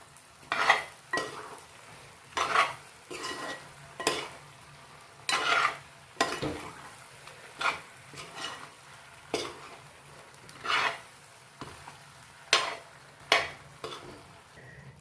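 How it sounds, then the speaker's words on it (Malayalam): Chicken pieces are stirred and coated in spice mix in a pan for kozhi perattu, giving a rhythmic series of soft scraping strokes with light sizzling between them, fairly quiet and near, with no voices. "ഈ സമയം നമുക്ക് ചിക്കനും കൂടി ഇതിലേക്കിട്ട് നല്ലതുപോലെ ഒന്ന് പുരട്ടിയെടുക്കാം."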